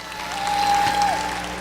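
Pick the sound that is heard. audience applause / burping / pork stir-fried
audience applause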